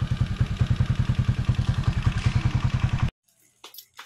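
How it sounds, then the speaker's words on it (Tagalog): Motorbike engine thumping in a fast, even rhythm at close range while riding, a steady chugging pulse that cuts off abruptly after about three seconds, leaving faint scattered sounds. "Damo kami nagsakay sa motor ni Bitoy."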